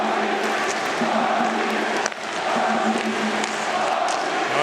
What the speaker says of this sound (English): Swiss fans up and cheering again.